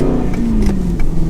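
Aston Martin Vantage GT with a manual gearbox revs its engine in a steady, loud mid-pitched drone with a couple of brief rising surges, close by and uninterrupted for about a second.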